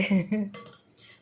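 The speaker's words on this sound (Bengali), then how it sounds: "খাওয়াটা আমার থালায় এবার দেওয়া হচ্ছে।" Food is served onto a plate as dishes clink twice in short, bright knocks, heard just after a brief stretch of talking.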